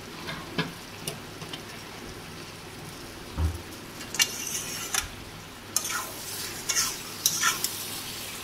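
Shrimp and spices stirred in a hot pan for potol chingri, with a soft background sizzle broken by scattered scrapes and clinks of the spoon against the pan.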